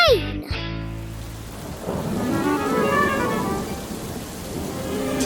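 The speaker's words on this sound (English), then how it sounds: "Today is a day of heavy rain" Heavy rain falls steadily in a cartoon scene, a loud continuous hiss with a rumble of thunder building under it after a brief musical sound at the start.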